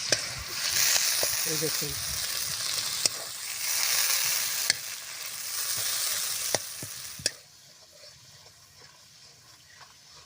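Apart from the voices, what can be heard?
ghee simmering with lemon leaves in a pan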